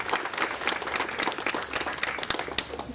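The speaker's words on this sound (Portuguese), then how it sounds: "Os irmãos podem aplaudir esse casal nesse momento?" Congregation applauding a couple during a church wedding ceremony, a moderate wash of many hands clapping with distinct individual claps, steady for a few seconds at a modest distance.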